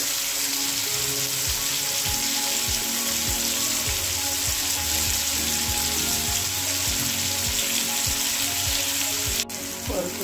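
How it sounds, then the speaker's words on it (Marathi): Onion and tomato sautéing with salt in a pan, a continuous bright sizzle with regular soft stirring strokes roughly every half second, alone and steady throughout. "चांगलं परतूया।"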